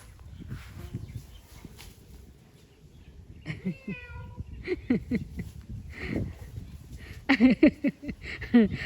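A cat meows several times while quarrelling with an elephant, its cries rising and falling, sharper and louder toward the end, over rustling, shuffling and outdoor background noise.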